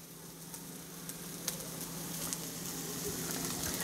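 Steady, gentle sizzling of onions caramelizing in a pan over turned-down heat, a continuous crackle with small pops, no talking.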